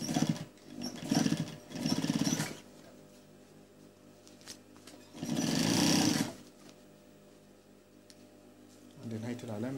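An electric sewing machine stitches a slit pocket on a men's jacket, running in a few distinct bursts with pauses between them. Quiet talk can be heard at times.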